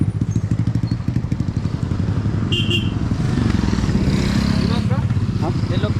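A KTM 390 motorcycle engine, which has an overheating problem, putters steadily up close while riding, with a voice talking over the engine noise.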